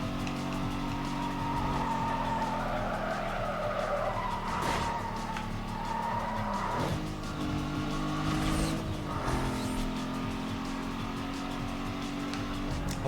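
Racing engine roar and tire skids from NFS: Most Wanted (2005), a car boosting on nitrous through a turn, with a steady high engine drone and screeching slides around the corners, no talk.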